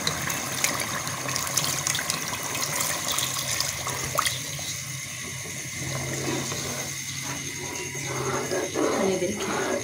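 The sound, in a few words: water poured into chicken kofta curry for gravy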